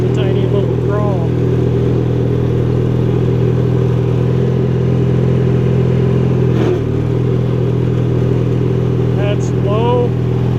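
A 1983 Craftsman GTV/16 Varidrive garden tractor engine idles steadily with a low, constant hum and a faint clatter, running close by at an even pace while a person talks over it.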